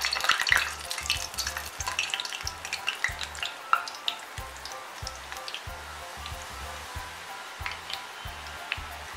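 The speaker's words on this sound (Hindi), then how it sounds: "अब ऑयल में इस तरह से सेब वाली मशीन से गोल घुमाते जाएंगे।" Sev made from gram-flour dough is pressed from a sev maker into hot oil, where it fries with a steady crackling sizzle and bursts of bubbling, alongside faint low knocking throughout.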